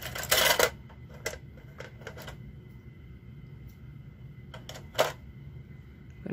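Scissors snip through knitting yarn at close range, a sharp crisp cut near the start followed by a few lighter clicks of the blades and another firm snip around the fifth second, with no voices.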